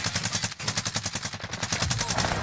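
Rapid sniper and automatic gunfire in a shooting video game, dense overlapping bursts crackling continuously at close range with no pause.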